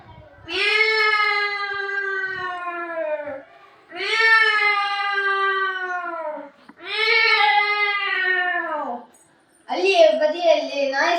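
A voice imitates a cat yowling and making a racket at a school mimicry talent contest: three long, wavering, loud wails up close, then a shorter, harsher burst.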